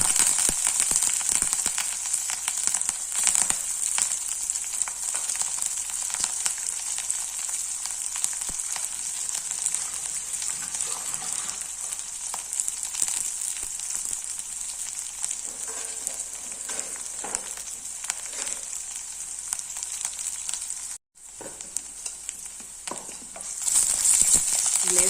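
Onion, green chillies and curry leaves sauté in hot oil with a steady, close sizzle and crackle that runs continuously, with occasional faint stirring and a brief dropout near the end.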